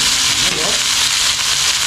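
Onion sizzling in hot oil in a pan, a steady bright crackle of frying that runs loud and continuous from start to finish with no talk over it.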